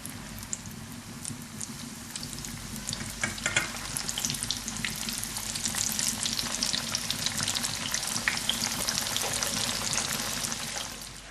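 Rice börek fries in oil in a pan, a dense hissing spatter with scattered pops, growing slightly louder and continuing without voices.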